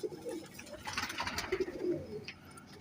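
A female pigeon coos nearby in a few soft, low, rolling calls, with faint background ambience and no talking.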